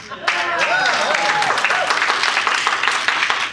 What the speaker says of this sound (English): That is the biggest applause I've ever gotten for that.